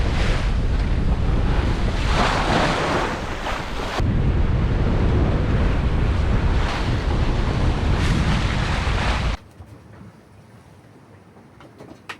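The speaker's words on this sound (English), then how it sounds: "the wind's picked up time for a couple of reefs" Strong wind roars across the microphone on a sailboat at sea between Porto and Lanzarote, over crashing sea and rushing water, loud and continuous, before dropping suddenly to a quieter hiss near the end.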